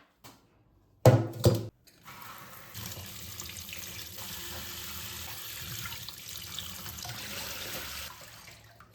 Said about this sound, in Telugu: తెచ్చిన వెజిటబుల్స్ అన్నీ కూడా ఇలా చక్కగా వాష్ చేసేసుకునేసి